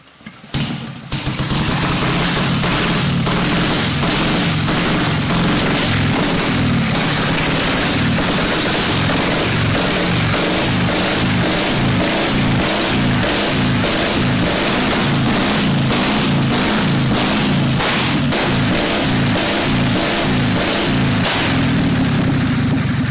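A warm vintage motorcycle engine, spark advanced, choke off and decompressed, is cranked and fires up, then runs steadily with a loud, rhythmic thumping beat close by for about twenty seconds, with no talking.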